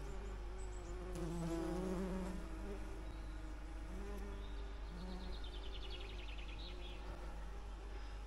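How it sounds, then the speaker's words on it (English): A dense, steady buzzing of dozens of honeybees on flowers close by, a continuous drone with higher whines from individual insects passing near. "I have got dozens and dozens of honeybees on it."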